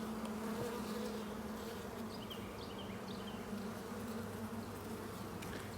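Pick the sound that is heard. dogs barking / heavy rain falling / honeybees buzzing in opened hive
honeybees buzzing in opened hive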